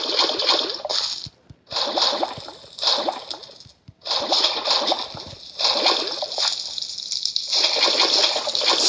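Lava is poured to fill a hole in Minecraft, heard as repeated gushing, splashing bursts separated by brief silent gaps, loud and close.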